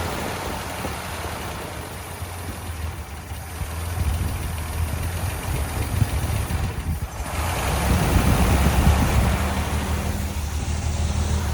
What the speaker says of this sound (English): So it's running, the motor's on, a lot of white smoke, and I have to give it gas for it to go.